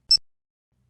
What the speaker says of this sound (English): A confirmation beep will signal when the upper right button is pressed.